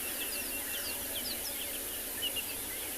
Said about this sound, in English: I feel like the birds are louder and there's more of them.